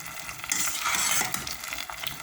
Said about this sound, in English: as it's boiling, you can see what's happening to the ogbono